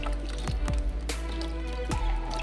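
Water splashes and drips over a baby Lesser Antillean iguana sitting half-submerged in a shallow tub, with a few soft wet squishes and trickles against a steady low hum.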